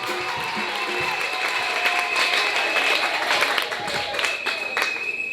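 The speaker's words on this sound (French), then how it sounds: "acclamez très fort pour la gloire de Dieu" A congregation claps and cheers loudly during a church service, the applause sustained and fairly close throughout, with voices mixed into the crowd noise.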